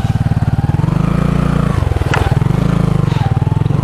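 A motorbike runs past on a road through a plantation, its engine throbbing loudly and close with a steady rhythmic beat that dips briefly and then returns.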